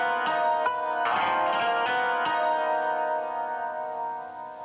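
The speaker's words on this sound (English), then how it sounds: "sounds like a stringed plucked thing" A series of bright plucked string notes rings out in a quick melodic run, then lingers in a washy, echoing sustain.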